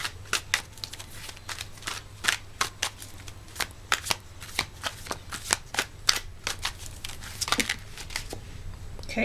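A tarot deck is shuffled by hand in a run of quick riffling bursts and soft card slaps, close and crisp, with a low steady hum underneath and no speech.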